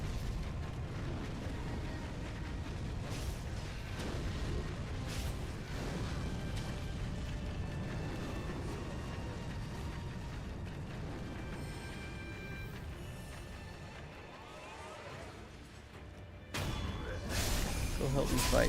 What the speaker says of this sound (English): I just jumped right into some man's fire cannon.